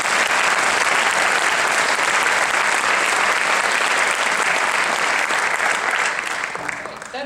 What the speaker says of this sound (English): Another round of applause for those who did honors.